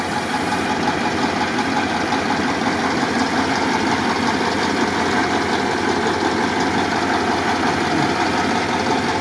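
A KrAZ heavy truck's diesel engine rumbles steadily at idle after an off-road run, loud and close, with a constant low throb and no pauses.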